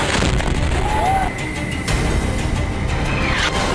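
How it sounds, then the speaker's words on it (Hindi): A JDAM bomb explosion, heard as a loud, sustained rumbling blast with dense low-end roar and crackling debris through nearly four seconds, with no clear single onset. "दूसरी क्लिप जेडैम हमले की है। इसमें बताया गया है कि जेडैम का विस्फोट इस तरह से होता है।"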